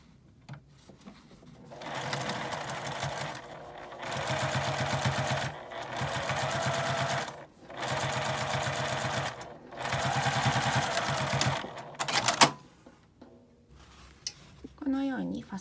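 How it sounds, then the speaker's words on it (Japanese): A sewing machine edge-stitches a zippered key case with a clear window, running in about five steady whirring bursts separated by short pauses, close and prominent. "開いて端ミシンをかけます。"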